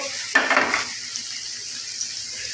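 Okra and onions frying in a pan over a low flame; a short burst of scraping and sizzling stirring sounds up close, then a faint steady sizzle continues alone.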